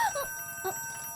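A telephone rings briefly indoors, a short electronic warble repeating twice within about a second, moderately loud over faint room tone with no talking.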